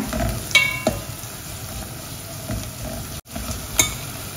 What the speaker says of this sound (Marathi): गरम मसाला टाकते, थोडासा, पाव चमचा फक्त, आणि तो एकाच मिनिट जर आपण परतूया